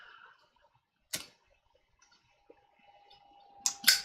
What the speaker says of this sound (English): I've got the trout Zippo tonight that Michael gave me, and one of my favorite lighters, in part because it's a Zippo